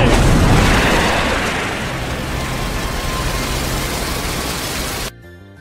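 A fish bomb blasts in a film scene, a loud, dense roaring explosion that rumbles on and slowly fades over about five seconds before cutting off abruptly.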